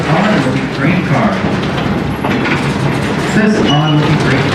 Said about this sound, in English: we will begin to pass by some of our extra train cars